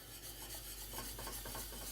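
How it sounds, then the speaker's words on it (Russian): Continuous scraping and rubbing of a whisk stirring thick cream in a saucepan as it heats toward a boil, steady and close, with no voices. "Постоянно помешивая, довожу крем до кипения."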